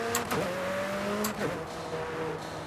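A McLaren in Forza Horizon 5 revs hard, its engine note climbing and dropping through repeated quick gear shifts, loud and close, with a continuous gritty roar throughout.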